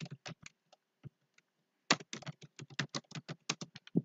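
Keys clatter on a computer keyboard in quick bursts of close, crisp clicks, with a short pause before a denser run of typing resumes.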